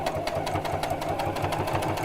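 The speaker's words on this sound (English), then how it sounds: "So I'm going to lengthen the stitch a little bit to top stitch." Domestic sewing machine running a steady top stitch with lengthened stitches around a pocket edge, a fast even mechanical chatter at close range with no talking.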